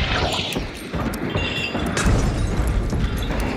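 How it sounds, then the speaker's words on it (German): A barrel blows up in the video game Hunt: Showdown, a loud, rumbling burst that fills the short stretch and keeps roaring with a dense, crackling tail. "Ich werde das Fass explodieren lassen."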